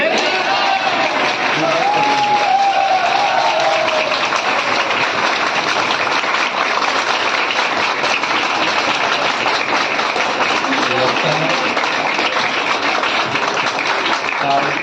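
Audience clapping at a teachers day celebration at a career institute, a steady, loud, continuous wash of hands throughout, with a voice briefly audible over it early on.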